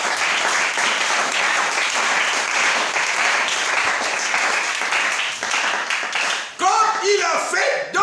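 A church congregation breaks into sustained, loud applause and cheering that fills the room for several seconds, then thins into scattered claps, whoops and raised voices near the end.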